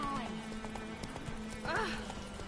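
Horse hooves in The Witcher 3 clopping in a quick, even rhythm, with a short neigh partway through and game music and voices underneath.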